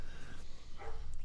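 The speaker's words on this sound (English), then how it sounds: "Sounds like my dog is outside." A dog barks outside in a brief, fairly faint burst, heard at a distance with some room background noise.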